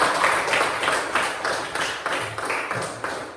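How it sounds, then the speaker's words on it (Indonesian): Small group in a classroom clapping for group 2, a loose, uneven patter of hand claps, moderately close, fading slightly toward the end, with no talking. "Tepuk tangan untuk kelompok 2"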